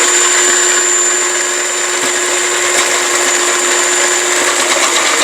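An electric food processor runs continuously at high speed chopping large onions, a loud steady whirring motor hum with faint rattling throughout.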